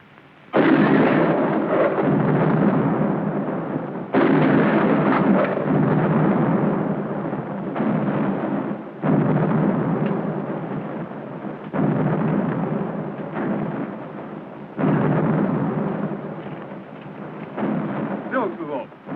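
Nine-pounder cannons fire in a battle scene from a 1951 western, a series of loud deep booms with rumbling tails spaced a few seconds apart, with voices mixed in.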